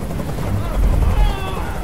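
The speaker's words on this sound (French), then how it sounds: "Je peux plus supporter ce bruit! Fais dégager cet hélicoptère, maintenant!" A helicopter in the video game Detroit: Become Human gives a steady, loud rotor rumble with a low throbbing pulse that swells midway, heard close and continuous, with a voice or game sounds mixed over it.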